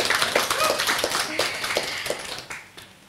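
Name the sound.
audience applause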